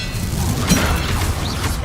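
The Expelliarmus disarming spell is cast in the game Hogwarts Legacy: a loud, dense magical burst with a boom and rattling mechanical crunch, layered over continuous battle noise.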